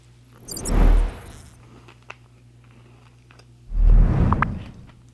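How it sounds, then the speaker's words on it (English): Two bursts of wet, close mouth sounds from an animal chewing or licking near the microphone, each about a second long and separated by a quiet pause, over a faint steady hum. "The mouth sounds. I hate mouth sounds."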